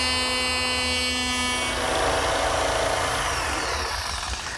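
A router with its bit dropped into wood cuts a groove for a desk rail: a loud, close motor whine that shifts into a rougher, grinding cutting noise as the wood is pushed through, with no talking.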